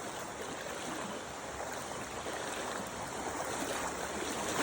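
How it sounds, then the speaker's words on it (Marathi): Fast rainwater rushes in a swollen stream after a cloudburst near a rural hamlet, a steady broadband roar of churning water running loud and continuous throughout, with no voices. "जबरदस्त स्पीड आहे पाण्याला"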